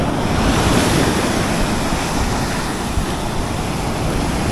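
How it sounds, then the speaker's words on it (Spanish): Ocean surf breaking on the golden sand of Playa Los Almendros in Acajutla, Sonsonate, El Salvador, recorded up close as a steady, loud wash of waves with wind buffeting the microphone and no talking. "Vamos a grabar un poquito aquí las olas de cerquita"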